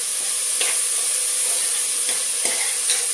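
Jackfruit pulao mixture fries loudly in a pan with a bright, constant sizzling hiss. Several soft stirring scrapes land at irregular moments, and no one speaks.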